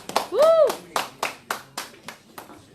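Brief applause for a radio contest winner on a Red FM show, a few rhythmic hand claps under a short voice, close and fairly loud.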